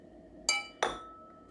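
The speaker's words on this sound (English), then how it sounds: "We have all the cups here. So let me go and rinse these out." Two sharp ceramic coffee cups clink together close by as they are gathered up after a pour-over brewing session, two bright knocks about a third of a second apart with no talking.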